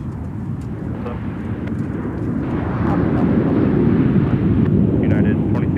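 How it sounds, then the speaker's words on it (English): A jet airliner, a Baltimore arrival, passes through Minneapolis–St. Paul airport, its engine roar swelling steadily from a moderate rumble to a louder, broad whoosh, with faint radio chatter and wind noise. "there is the flight from Baltimore passing through the frame"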